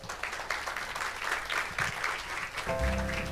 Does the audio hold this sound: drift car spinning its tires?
no